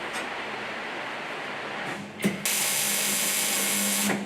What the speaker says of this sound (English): Here's Scott removing the front suspension.